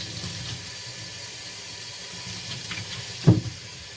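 Hot water runs from a tap in a steady, faint hiss and wash of water, with a brief knock or splash near the end and no talk.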